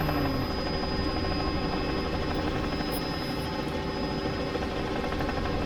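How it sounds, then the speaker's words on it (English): A Robinson R66 helicopter in Microsoft Flight Simulator VR gives a steady, loud turbine and rotor drone that holds without a break from start to finish, with no talking over it. "So I really appreciate the simpler helicopter that this is."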